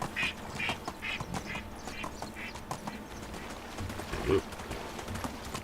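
Duck quacks repeat in a steady series of short nasal calls in the medieval village game Medieval Dynasty, moderately close, with soft hoof-like clip-clops and other game ambience underneath.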